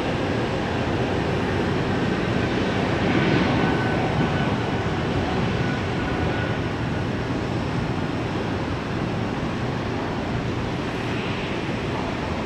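Southwest jet airliner taking off at Tampa airport, a steady broadband roar of engine thrust that holds loud and unbroken throughout, without speech.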